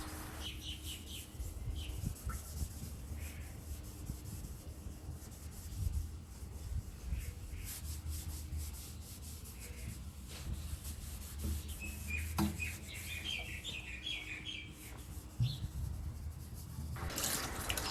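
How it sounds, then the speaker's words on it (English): A scrubbing brush rubs against the inside glass of a used aquarium tank outdoors, producing steady, faint, uneven swishing and scraping strokes, with small knocks and a few bird chirps in the background. "After scrubbing the inside of the entire tank"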